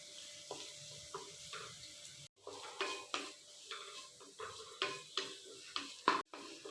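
A spoon repeatedly stirs and scrapes bell pepper and egg frying in a pan, with rhythmic scraping strokes about once a second over a faint sizzle.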